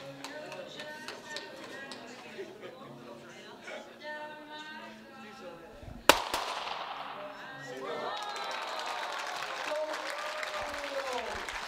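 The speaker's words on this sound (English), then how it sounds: "big round of applause inside the finals hall here" Spectators clapping inside the finals hall of a mixed 25m pistol SH1 shooting final in Cheongju, a sharp crack partway through followed by sustained applause, with a commentator talking over it.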